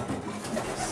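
Pigeons in a pigeon loft coo softly amid a dense, steady background murmur of birds, close and continuous for about a second.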